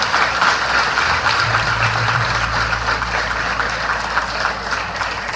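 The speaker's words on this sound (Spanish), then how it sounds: "Un aplauso para todo el gobierno ampliado." Dense, steady applause from a congregation at a priestly and diaconal ordination ceremony, a continuous wash of many hands clapping at even loudness throughout, with no speech over it.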